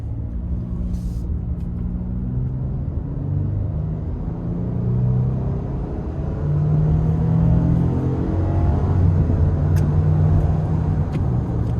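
A 2026 Nissan Frontier PRO-4X pickup with a 3.8 V6, accelerating under manual shift: a loud, steady engine drone rises in pitch through the gears, heard from inside the cab with road rumble beneath.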